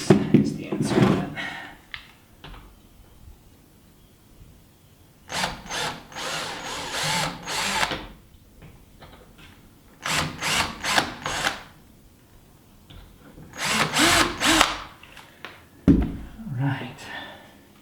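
A power drill pre-drills holes while a wooden door is being built, running in several bursts of a few seconds each with quiet gaps between them, close by in a workshop.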